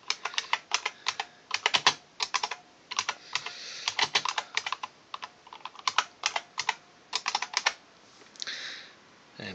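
Fingers type on a Briel 8800micro computer keyboard, producing close, crisp key clicks in irregular bursts with short pauses between runs of keystrokes.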